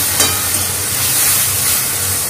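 Spices added to potatoes and pointed gourd frying in hot oil give a steady, close sizzling hiss with a brief louder crackle near the start, with no voices.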